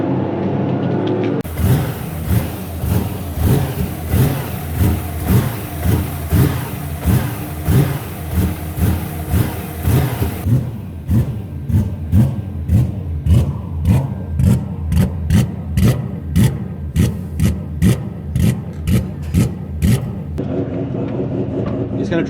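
A drift car engine at a Manfeild raceday revs hard and loud with clutch kicks, first as a sustained roar, then as a rapid series of sharp rhythmic revving spikes, with voices talking over it.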